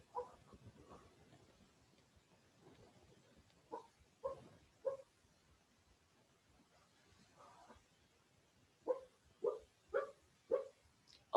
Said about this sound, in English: Oh, we have some puppy dreams going on the bed.